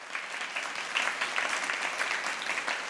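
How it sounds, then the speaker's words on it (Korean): A theatre audience claps steadily and moderately loudly as stage lights come on before a Korean traditional pansori performance, a continuous even applause with no voices. "관중들의 박수 속에서 무대 조명이 켜진다."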